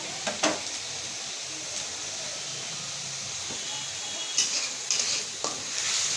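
Spice paste frying and being stirred in a pan for a fish curry with Malabar spinach and potatoes, a steady sizzle broken by a few scraping stirs, close and alone.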